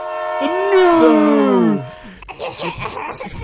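A voice imitating a train horn or whistle on a podcast, a loud sustained wavering tone for over a second, followed by a shouted word and laughter.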